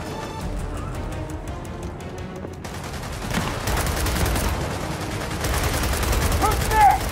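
Gunfire in the video game Gears of War 4: dense, sustained bursts of shots and crashing impacts through a busy firefight, with voices talking over it.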